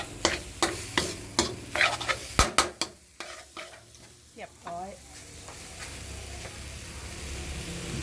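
Northern Thai jackfruit salad (tam khanun) being tossed and mixed in a pan or bowl, with repeated scraping, clattering strokes at a steady rhythm, then a softer sizzling-like hiss as the mixing slows.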